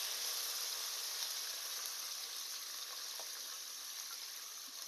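Curry leaves and peanuts fry in oil in a pan for a homemade vangibath, making a faint, even hiss of sizzling that holds steady throughout.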